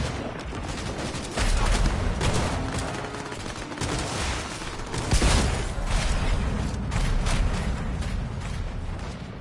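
Gunfire erupts in the video game Cyberpunk 2077, sustained rapid shots and bursts with mechanical clatter, loud and dense for several seconds after a quieter opening.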